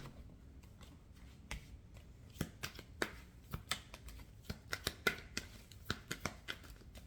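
Tarot cards shuffled by hand and then laid down one by one on a surface, a run of crisp, close, quiet slaps and flicks in an irregular rhythm, with no talking.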